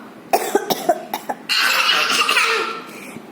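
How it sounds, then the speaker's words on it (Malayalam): A performer in a staged drama coughs in several sharp, closely spaced bursts, then lets out a longer strained, wheezing rasp; the sound is loud and close, with no speech. "ഇങ്ങനെ ഞരങ്ങി ചുമക്കാതെ"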